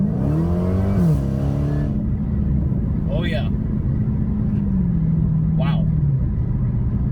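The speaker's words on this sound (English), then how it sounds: "That exhaust opens up." A Dodge Challenger Hellcat fitted with Dynomax Race Bullets exhaust roars loudly up through its revs, the engine note climbing and holding in a deep, continuous rumble while a man exclaims briefly over it.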